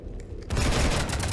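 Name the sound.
gunfire shooting up a ship in video game Mass Effect 3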